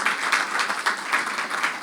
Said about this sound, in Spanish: Dele un aplauso a la gracia del Señor